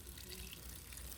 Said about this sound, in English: you're going to take a 1/2 cup of flat beer, and we're going to pour that